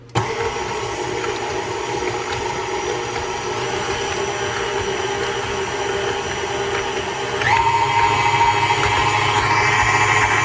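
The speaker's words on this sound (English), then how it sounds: "So we are going to mix this up for a few minutes until everything is nice and combined." An electric mixer beats butter and eggs for a big batch of cookie dough, a loud, steady motor whir that shifts up to a higher, stronger pitch near the end.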